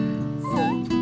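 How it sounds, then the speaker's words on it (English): Young Vizsla puppies, five to six weeks old, let out soft, contented whimpers and little yips, a close, high, wavering whine lasting about a second. "that's the sound of comfy puppies"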